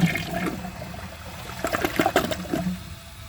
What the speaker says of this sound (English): let's see how it does with a press and release flush